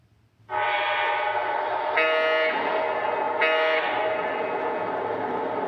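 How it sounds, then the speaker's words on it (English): Lionel model train locomotives running as a lashup sound their horns together: a loud sustained chord starting about half a second in and holding steady, with two brief brighter swells layered on top, and no talking. "we turn on the horn, we hit set, we should hear the confirmation from both locomotives"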